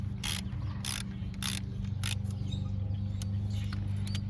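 A ratchet on two 3-inch extensions clicks in short bursts, then in a quicker rapid run, spinning a tight power steering pump bolt on a 2007 Cadillac DTS, close up over a low steady hum.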